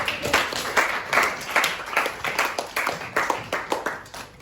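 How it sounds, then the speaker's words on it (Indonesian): A classroom of students claps their hands together in a lively, rhythmic round of applause, the sharp claps close and steady throughout without talking. "Beri tepuk tangan dong"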